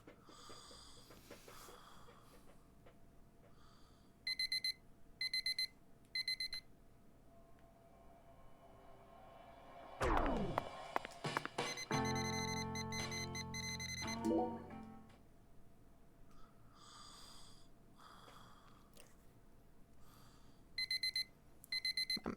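Alarm clock ringing in the video game Deadly Premonition 2, sounding in short repeated bursts of bright electronic beeps that start, stop and return over a soft game ambience, with a louder scraping, clattering stretch in the middle.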